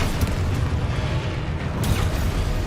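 A Confringo fire spell bursts in the Hogwarts Legacy video game amid a dense, loud wash of rumbling booms that runs the whole time, with sharper blasts near the start and again toward the end.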